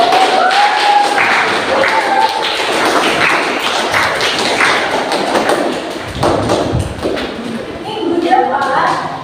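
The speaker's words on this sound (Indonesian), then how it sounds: "tepuk tangan untuk kalian" Classroom of schoolchildren clapping for their math lesson, a dense rolling patter of hand claps and thumps filling the room, with children's voices chattering underneath throughout.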